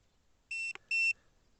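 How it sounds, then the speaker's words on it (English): A fishing bait boat gives two short, sharp electronic beeps in quick succession, close and clear against a quiet background, with a small click between them. "So it's beeping now, letting know we have saved our home point."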